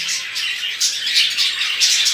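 Quails and other small aviary birds call continuously, a dense overlapping mix of close, fairly loud chirps and squawks, with no talking.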